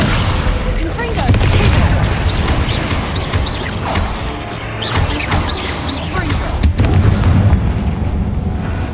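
A Confringo fire spell in Hogwarts Legacy erupts in a series of booming, crackling blasts with sharp explosive impacts scattered across the stretch, set over ongoing game ambience.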